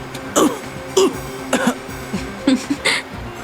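A man coughs and clears his throat in a series of about six rough, close bursts spread irregularly over a few seconds, with short pauses between.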